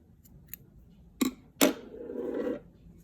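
Scissors cutting crochet yarn on a crochet top: a few faint clicks, then two sharp snips close up, followed by a short soft rasp as the blades close through the yarn, quiet surroundings without talk.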